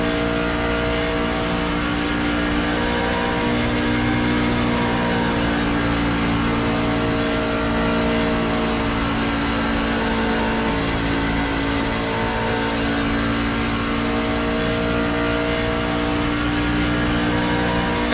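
NASCAR Truck Series trucks racing at Kansas Speedway: a loud, sustained engine roar with steady tonal drones, running continuously without letting up and with no talking.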